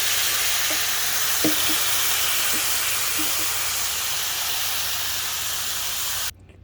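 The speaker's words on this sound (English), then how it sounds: "I'm going to deglaze with just a little bit of wine, some white wine." A hot pan of shrimp is deglazed with white wine, giving a loud, steady, broad hiss of steam and sizzling that holds for several seconds before cutting off abruptly.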